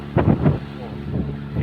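A boat heading out from shore toward the open sea near a fishing area, engine droning low and steady under gusts of wind buffeting the microphone, with a few brief voice-like bursts near the start.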